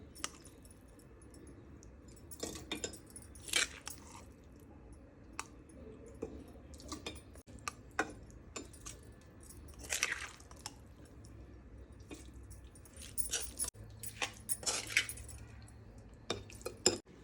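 Bitter gourd pickle being spooned into a jar, with quiet intermittent clinks of a spoon against glass and soft wet squishes at an uneven pace, close and faint with no talking.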